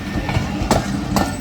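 A train rushes past at speed at the Golra Sharif junction level crossing, a loud close rumble with rhythmic clickety-clack wheel beats over the rails.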